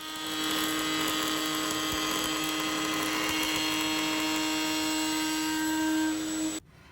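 A router fitted with a double bearing flush-trim bit cuts timber against a template, giving a loud, steady high-pitched whine that holds for several seconds before cutting off abruptly at the end.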